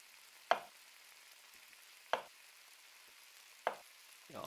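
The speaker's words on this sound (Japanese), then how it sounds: "包丁使うの久しぶりだな" A knife chops potatoes in the video game Cooking Simulator: three sharp, isolated knocks, evenly spaced about a second and a half apart, faint against near silence, with a fourth starting at the end.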